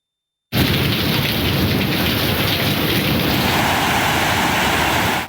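Monsoon rain in Balochistan, Pakistan: a heavy, steady downpour with a low thunder rumble beneath it, loud and continuous throughout, with nobody speaking.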